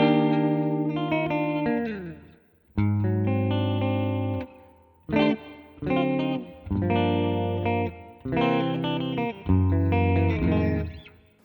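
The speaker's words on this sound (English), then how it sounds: "This next one is based on the Modulated Hall, classic 1980s electronic hall reverb with adjustable pitch modulation" Guitar played through an Alexander Space Force pedal's Modulated Hall setting, a 1980s-style electronic hall reverb with pitch modulation: several separate chords and riffs, each ringing into a shimmering, wavering tail, with no speech.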